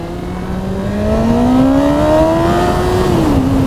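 A motorcycle engine pulls hard on a country road ride, its loud, close note rising steadily in pitch as it accelerates, then easing off at the end.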